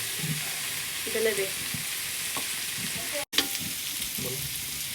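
Eggs with chopped onion frying in a hot pan for fried rice, a steady close sizzle with a few scraping stirs and one brief dropout.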